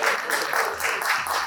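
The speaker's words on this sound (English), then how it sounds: "let's do that round of applause" An audience gives a dense round of applause for DJs on stage, continuous clapping from a crowd at a DJ event, fairly close and steady throughout.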